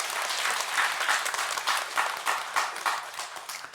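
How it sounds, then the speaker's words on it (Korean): A church congregation applauding during a Sunday morning worship service, a sustained round of clapping with rhythmic pulses that gradually tapers. "우리 하나님께 영광의 박수 올려드리겠습니다"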